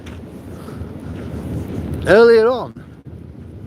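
Wind blows outdoors against a microphone as a continuous low rumbling buffet, and a voice begins speaking near the end.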